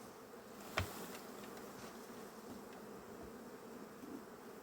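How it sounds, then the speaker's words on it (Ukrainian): Honey bees are shaken from the hive for a varroa mite check and keep up a steady, fairly faint buzzing hum, with one sharp knock early on and no speech. "І починаємо струшувати сюди бджіл"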